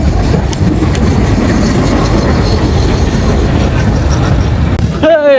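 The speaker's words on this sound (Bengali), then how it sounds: "ওই যে ট্রেন চলে আসছে দেখতে পাচ্ছেন।" A train rolls into Katakhali station with a loud, continuous rumble and rattle of wagons filling the scene, ending in a brief rising whistle-like squeal.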